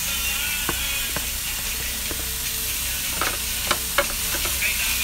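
Pork sizzling in a pan with onions, garlic and ginger, a steady frying hiss with occasional clicks and scrapes of stirring, close and unaccompanied.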